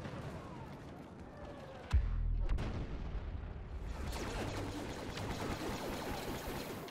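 Rocket explosion in Star Wars Battlefront multiplayer, a sharp heavy blast bursting out mid-clip amid ongoing distant gunfire and battle rumble, followed by crackling debris and continued combat noise.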